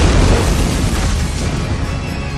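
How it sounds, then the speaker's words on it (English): A car bomb's blast sounds as a loud, deep boom that rolls on into a heavy rumble and slowly fades. "moments later a second explosion rocks the area"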